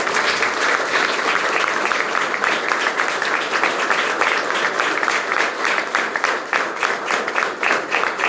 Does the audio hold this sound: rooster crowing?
no